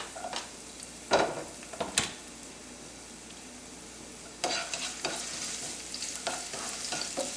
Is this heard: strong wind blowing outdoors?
no